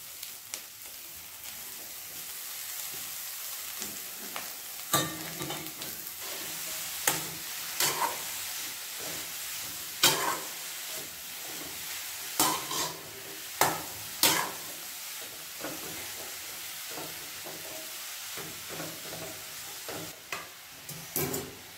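Chopped green chickpea leaves sizzle in a pan for harbhara bhaji, a continuous soft hiss broken by repeated clattering scrapes and knocks of a spatula stirring at irregular intervals.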